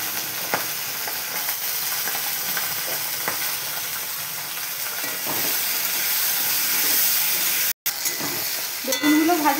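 Eggplant slices frying in oil left from frying hilsa fish, a loud, steady sizzle with crackling spatters close by, continuing for several seconds with a brief cut near the end.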